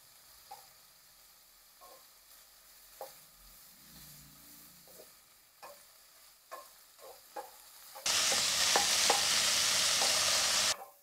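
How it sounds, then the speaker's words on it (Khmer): Pork stir-frying in a pan for kimchi soup: quiet scraping and stirring taps at first, then a loud, steady sizzle that bursts in during the last few seconds, close by with no talk. "ខ្ញុំបន្តនៅការធ្វើសាច់ហ្នឹងឆាសាច់ហ្នឹងឲ្យវារៀងឡើងរៀងក្រហមរៀងក្រៀមបន្តិចទៅរ"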